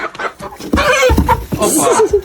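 A rooster crows and clucks nearby in a short burst on a broiler farm, loud and close, with a little background noise.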